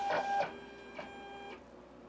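A vinyl cutter runs a test pass along the length and width of the material on a sticker job, giving a steady mechanical whir with tonal motor whine and a few short carriage movements, fairly close.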